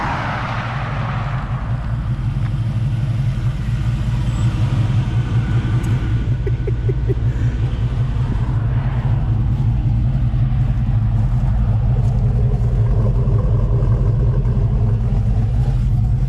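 LS-swapped 1994 Chevy Silverado pickup: a deep, steady V8 rumble drones throughout with loud low-end throb and a slight rise in revs midway, steady and close with no talking.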